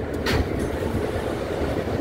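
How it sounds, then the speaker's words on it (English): Queens-bound E subway train, an R160 car, running on rails: a steady, loud low rumble of wheels and motors with a brief hiss near the start, continuous and close throughout. "This is a Queens-bound E train."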